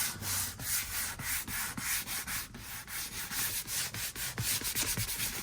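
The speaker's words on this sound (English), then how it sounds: "You wouldn't want to sand this with like 220 or something" Sandpaper worked by hand over a damaged Ferrari 360 Modena leather seat, producing a steady, close rasping rub in quick repeated back-and-forth strokes over more than five seconds, with no one talking.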